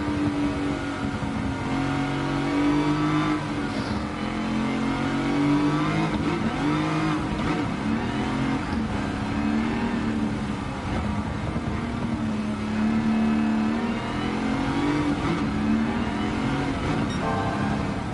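Pontiac GTO Judge engine in Gran Turismo 7, a steady loud rumble that revs and drops repeatedly as gears shift early, continuous throughout with no talking.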